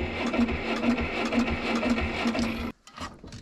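A gas-fueled pony motor with a weak, dead battery cranks over in a rapid, steady mechanical whir for a few seconds close by, then cuts off abruptly.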